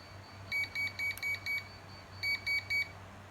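Sharp electronic alarm beeps from a 433MHz wireless beam detector in two quick bursts of rapid pulses, loud and near, separated by a short pause over a low hum.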